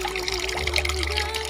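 Water trickles steadily from one fish bucket into another in a home tilapia setup, a continuous close liquid flow with a faint low hum beneath it.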